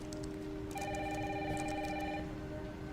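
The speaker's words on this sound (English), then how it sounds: "Mom, phone." A telephone rings insistently in the video game Resident Evil Requiem, a warbling electronic bell pattern over a background of steady rain, with no voices.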